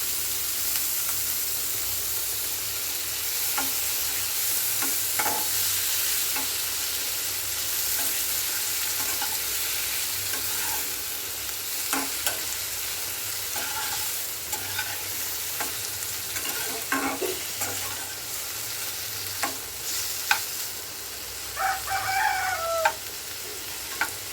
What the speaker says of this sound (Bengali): এবার লবণ হলুদ মাখিয়ে আমি চিংড়িগুলো ভেজে নেব